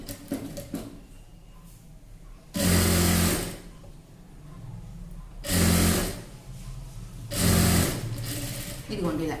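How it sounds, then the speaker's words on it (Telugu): A sewing machine stitches a double-folded hem on a chudi pant, with three loud bursts of fast whirring between quieter stretches in which someone talks. "డబుల్ ఫోల్డింగ్తో ఇలా స్టిచ్చింగ్ చేసుకోవాలి"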